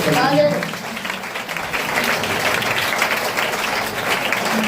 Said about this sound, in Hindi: एक बार ताली बजा करके तारीफ करेंगे